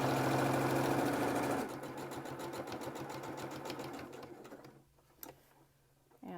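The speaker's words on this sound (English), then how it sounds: "Come over to the other long edge and do the same thing. And sew down the other long edge." A sewing machine stitches down the long edge of a fabric face mask, a steady loud whirring run that slows to a lighter rattle after a couple of seconds, then fades and stops.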